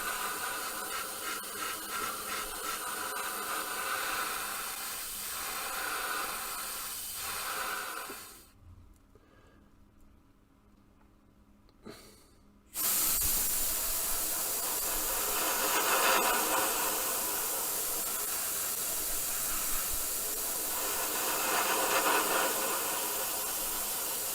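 A compressor-fed airbrush hisses steadily while spraying paint on a 1/24 scale Spitfire Mk.IXc model, stopping briefly for a few seconds before resuming at full strength, close and continuous.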